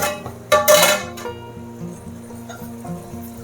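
A metal lid scrapes and clanks against a pot of Andhra-style fish curry once, a brief bright clatter, followed by a low steady simmering hum.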